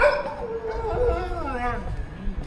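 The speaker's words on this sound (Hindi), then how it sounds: "छोटे से कुत्ते को देख के भौंक रहे हैं सारे।" Several street dogs bark and yip at a small dog, a short burst of overlapping barks and whimpers close by, heard over outdoor city background noise.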